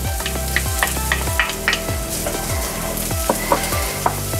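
Chopped onion frying in a pan with butter, a steady loud sizzle broken by repeated scraping stirs of a utensil against the pan at a roughly regular rhythm, close up and with no voices.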